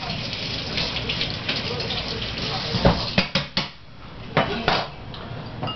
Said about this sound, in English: Rinse my knife off real quick.